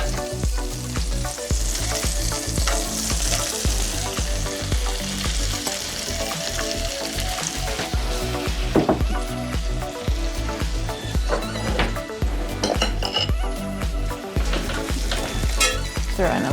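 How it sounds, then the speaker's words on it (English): Mushrooms sauté in melted butter for a quiche, a loud, dense, continuous sizzle and crackle right up close, with occasional scrapes of stirring throughout. "I'm gonna saute those up in butter here."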